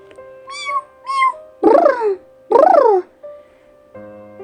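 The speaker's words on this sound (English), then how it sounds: "She rubbed against his legs, purring." A cat gives two short mews followed by two louder, drawn-out meows, close and clear against a near-silent background, and the sound then fades into a faint low hum.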